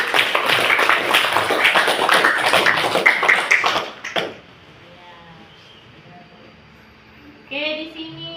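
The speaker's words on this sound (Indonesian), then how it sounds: "Oke, kasih tepuk tangan" Pupils in a maths classroom give a short round of applause, a dense flurry of close hand claps lasting a few seconds that stops abruptly into quiet room tone, followed later by a voice.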